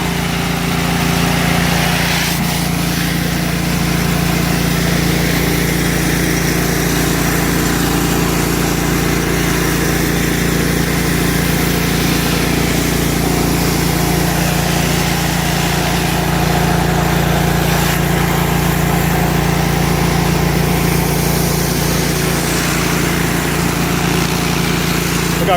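A Whisper Wash Classic pressure washer trailer engine runs steadily and loudly throughout, a constant small-engine drone with a strong low hum and no break, driving an 8.5 GPM, 3680 PSI four-nozzle surface cleaner bar.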